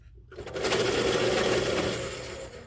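A colored pencil is ground in a pencil sharpener in one continuous whirring, buzzing burst that starts abruptly after a brief pause, holds steady for about two seconds and then fades slightly, close and fairly loud.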